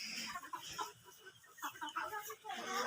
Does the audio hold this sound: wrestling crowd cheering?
no